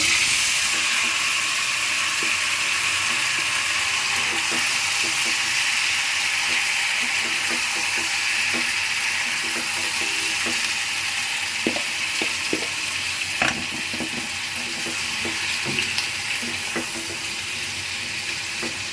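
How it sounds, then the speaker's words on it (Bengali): Chopped tomatoes fry with onion and garlic that have already been browned, giving a steady close sizzle and hiss with scattered crackles and soft utensil taps, and no voices. "এখন এই যে কেটে রাখা টমেটোগুলো দিয়ে দিব।"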